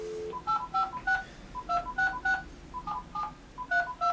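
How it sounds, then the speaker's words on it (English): A MagicJack 2011 phone adapter dialing out, producing a rapid sequence of clear touch-tone beeps in short bursts, close and steady with no voices. "I'm dialing my iPhone right now."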